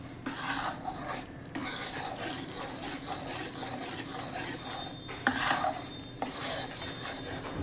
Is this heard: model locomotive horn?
no